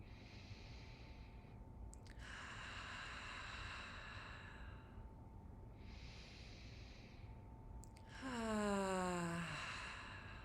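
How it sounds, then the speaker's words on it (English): Three slow, deep breaths taken during a guided Jewish meditation on trust, soft broadband inhales and exhales each lasting a couple of seconds over a low steady hum, with a brief voiced sigh at the end. "So taking 3 last full breaths in your vessel of trust."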